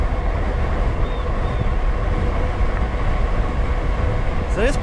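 A Cyrusher Trax 52V full-suspension fat tire electric bike cruises down a road at about 30 mph, producing a loud, steady rush of wind and tire roar that stays constant throughout.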